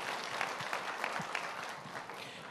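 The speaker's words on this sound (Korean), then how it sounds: "다시 한번 큰 박수로 축하해 주세요" A church congregation claps steadily through a completion ceremony for intercessory prayer workers, a dense, even patter of many hands close by with no voices over it.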